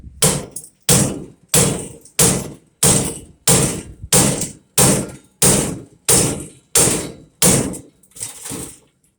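Heavy hammer blows land on a metal furnace panel being scrapped, in a steady rhythm, about a dozen sharp ringing clangs spaced evenly apart, close by with no talking.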